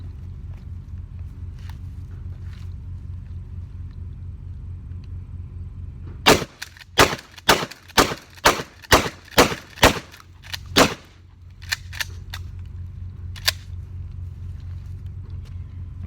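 A Maverick 88 pump shotgun fires a rapid string of about eight loud booming shots outdoors, each blast sharp and close, spaced under a second apart, with steady wind or engine rumble before and after.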